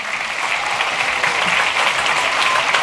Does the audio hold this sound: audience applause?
yes